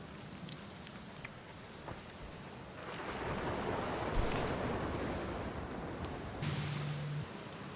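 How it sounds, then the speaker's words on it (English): Steady rain pours in the Outer Wilds video game, a dense hiss that swells louder midway and stays constant, with faint tonal game sounds layered on top and no one speaking. "Good thing I never get bored of rain, huh?"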